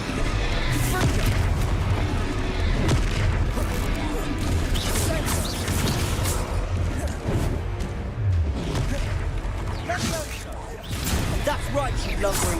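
Confringo blasting spells explode again and again in the Hogwarts Legacy video game, with booming, crashing blasts through a dense, loud stretch of combat while voices talk over them.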